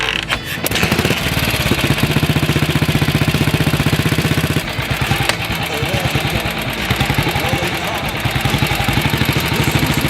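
A 1949 BSA vintage motorcycle engine runs loud and close, with a rapid, even thumping beat that keeps going through the clip.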